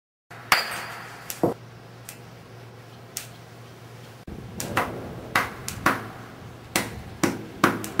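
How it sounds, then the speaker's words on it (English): A bonobo strikes a log with a thick cortical stone flake, chopping along a glued slit, making a series of sharp wooden knocks and clicks at an irregular pace, close by and clear over a low steady hum. "Note how Kanzi uses the thick cortical flake he produced with the sharp edge hitting the log along its glued slit"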